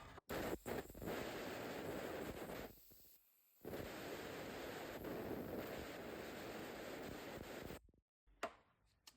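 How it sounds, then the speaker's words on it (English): Air compressor blowing out a Porsche VDO electric windshield washer pump, a loud, steady hiss of rushing air in two long bursts with a short gap between them, cutting off near the end. "now we're just going to blow it out with the air compressor, get everything cleaned out of there"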